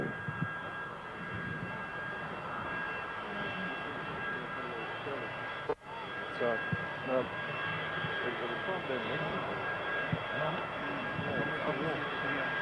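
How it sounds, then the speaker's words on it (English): An Airbus A380 on final approach to land at Jan Smuts International makes a steady, loud broadband engine roar with a thin high whine running throughout, briefly dipping near the middle before resuming. "As we watch the aircraft, she will shortly be turning onto base and then for final approach here at Jan Smuts International."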